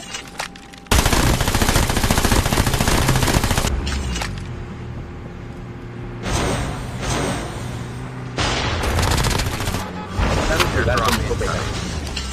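Rapid bursts from the Annihilator weapon in Call of Duty Mobile battle royale, loud and dense gunfire repeating in several volleys with brief gaps, overlaid with game sound effects.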